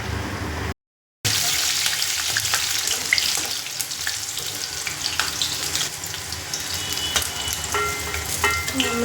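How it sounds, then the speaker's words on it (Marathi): Sabudana vadas deep-frying in hot oil give a steady, dense crackling sizzle close by, continuous apart from a brief silent gap near the start, with no talking over it. "आता म्हणजे वडे तळून झाले"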